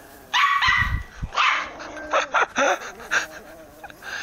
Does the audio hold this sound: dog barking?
yes